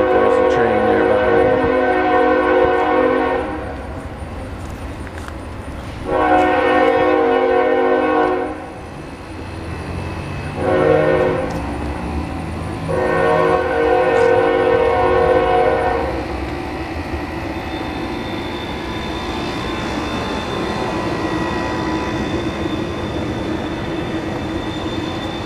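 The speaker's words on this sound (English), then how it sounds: "I can hear a train. Sounds like there's a train nearby." A nearby train sounds several long, loud horn blasts with short gaps between them, then its rumble continues and slowly fades as it passes.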